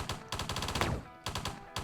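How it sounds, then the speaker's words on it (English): A Gatling gun in the Hydraulic Empire strategy game fires in rapid, dense rattling bursts, loud and up front, with a brief pause before another volley. "I'm going to put in Gatling gun."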